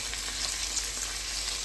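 Chopped peppers hit sautéed chicken in a hot pan for chicken piccata, giving a loud, steady, close sizzle with no break and no talking.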